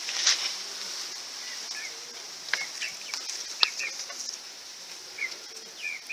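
Chickens foraging around a low herb plant give short, soft clucks and chirps scattered irregularly through a quiet outdoor setting, fairly faint and with no talk.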